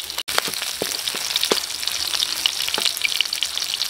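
Garlic and onion sauté in a hot pan for a stew of beef tongue, giving a steady, close crackling sizzle with scattered pops and stirring clicks throughout, no voices.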